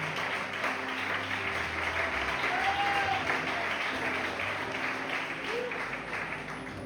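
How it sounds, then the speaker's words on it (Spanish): Church congregation applauding during a Spanish-language sermon, a steady wash of clapping lasting several seconds at moderate distance, with faint voices and a brief tonal sound mixed in. "Dáselo los fuertes aplausos"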